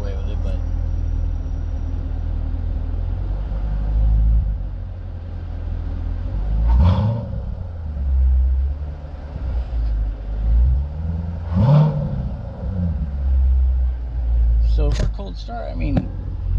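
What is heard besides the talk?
Corvette C7 Grand Sport engine revving, heard in cab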